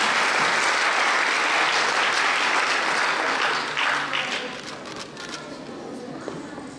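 An audience claps at the award ceremony of a national Quran memorisation competition in Batman, Turkey. The applause is loud, dense and steady, then eases to a softer, thinner level in the second half.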